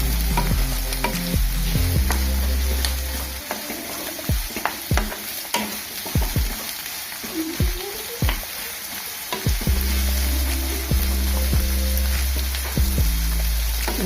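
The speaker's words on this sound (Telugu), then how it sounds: "వేసుకొని బాగా వేగనివ్వాలి." Green chilies and onion frying in a pan for an Andhra-style prawns fry: dense, close sizzling and crackling with many sharp pops, under a low hum that drops away midway and returns later.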